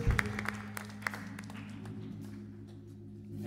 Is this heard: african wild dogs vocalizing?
no